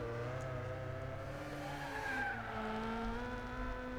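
A Gran Turismo 6 race car engine screams at high revs at the Nürburgring, its pitch rising and dipping steadily, a continuous synthetic-sounding drone with a brief tire squeal midway.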